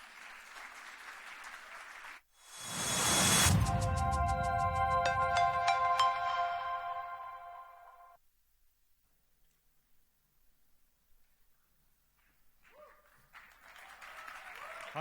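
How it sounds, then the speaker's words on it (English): Audience applause at a startup pitch event in Beirut, a sudden burst of clapping that swells and holds under a bright electronic chime jingle, then fades out to near silence. "Huge round of applause."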